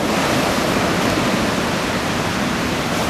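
Continuous roar of ocean waves breaking at Anglet beach on the Basque coast, smooth surf under a light wind, a close, loud, unbroken wash of broadband noise with no voices.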